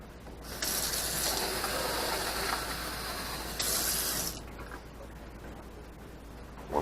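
Hot water pours from a tap into a rock tumbler barrel of clad coins, a steady rushing splash lasting several seconds, with a short break partway through before the flow stops and faint handling noises follow.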